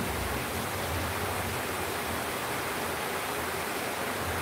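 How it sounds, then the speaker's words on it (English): Heavy rain pouring down in a steady, dense roar, even and unbroken throughout, loud and close with no voices over it. "That rain is heavy."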